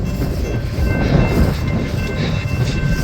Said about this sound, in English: So that was a monster train.